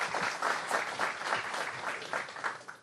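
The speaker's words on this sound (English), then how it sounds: "Give him a round of applause." Audience applause for a state senator at a public gathering on opioid deaths, steady dense clapping from a sizable crowd throughout, fairly close and filling the room.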